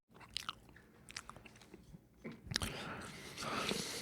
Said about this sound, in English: It's a chewing of the gum.